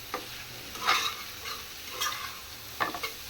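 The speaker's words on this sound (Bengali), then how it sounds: "এখন এটার মধ্যে গাজরটাই বাকি ছিল গাজরটা দিয়ে দিলাম সবজিটা রেডি এখন আরেকটু ভাজার পরে নুডলসটা আমি একসাথে করবো" Chopped carrots and mixed vegetables stir-fried for chowmein, with a steady sizzle broken by several scraping stirs of a spatula in the pan, close and fairly quiet.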